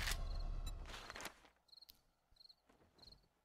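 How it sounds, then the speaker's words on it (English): Crickets chirp in short repeated bursts as nightfall comes in a survival video game, faint and spaced out after a louder noisy stretch at the start. "I hear the crickets are cricking. That means it's about to be nighttime."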